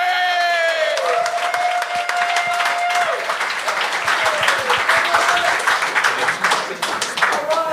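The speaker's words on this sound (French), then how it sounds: "Un tonnerre d'applaudissements pour Jean-Patrice Rivard!" Audience applause for a comedian at a Montreal-style open-mic gong show, a dense sustained wash of clapping and cheering that carries on for several seconds while a voice talks over it at the start.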